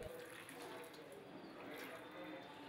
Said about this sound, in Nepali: आफ्नो हात धुनुहोस्।